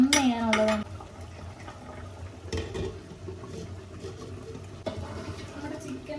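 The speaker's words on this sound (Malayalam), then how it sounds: "വെള്ളം ഒഴിച്ചു കൊടുക്കും" Water pours into a pot of Thalassery dum chicken biryani as a soft, continuous splashing rush, with a brief voice at the start and some pot clatter.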